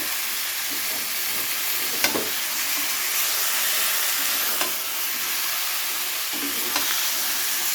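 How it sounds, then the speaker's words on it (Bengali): Soft katla fish pieces in masala sizzle steadily in a pan, with a few gentle, sparse stirs and scrapes standing out. There is no talking. "যেহেতু কাতলা মাছ খুবই নরম হয়, তো হালকা হাতে কিন্তু নাড়তে হবে।"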